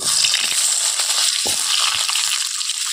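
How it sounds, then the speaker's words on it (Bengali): Steady, bright sizzling of chopped radish and green chilies frying in hot oil, with a few soft crackles and scrapes, no talking. "মূলোটা হালকা করে একটু ভেজে নেব।"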